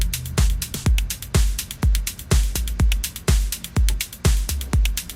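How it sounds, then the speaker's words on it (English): A punchy Roland TR-909 electronic snare hits in a steady groove, each crack followed by a long washy reverb tail, loud and repeating about twice per second. "So it's just a 909, and it's got some reverb on it"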